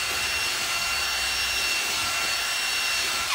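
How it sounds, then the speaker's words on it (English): Wire wheel roughing up the tire of a John Deere R tractor, a loud continuous abrasive whir with a steady high whine, holding an even level throughout with no talking. "So I'm gonna take my wire wheel and rough up the area"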